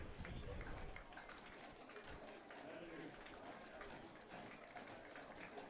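Home crowd at a Bend Elks versus Yakima Valley Pippins baseball game, a steady faint roar of cheering and clapping sustained throughout, heard from a distance.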